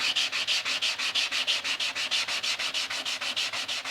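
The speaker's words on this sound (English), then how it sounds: "You can see it sands very quickly." A 150 grit sanding block scrubs motorcycle plastic in steady back-and-forth strokes, about five per second, close and loud with an even rasping rhythm and no talking.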